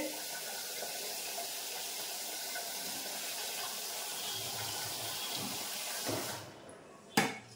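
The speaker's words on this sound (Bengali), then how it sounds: "চলে এসেছি চাল ধুতে।" Rice being washed under running water at a kitchen sink, a steady close splash and trickle of tap water, followed near the end by a brief clatter and a sharp knock.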